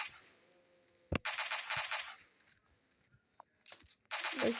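Bursts of gunfire from the battle game PUBG: a sharp single shot, then a dense rapid volley lasting about a second, a few isolated cracks, and another sustained volley at the end, fairly faint overall.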